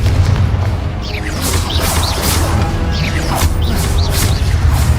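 A Confringo fire-blast spell erupting in Hogwarts Legacy, a loud, dense roar of crashing blasts and whooshing impacts. Heavy rumble sustains throughout with sharp hits layered on top.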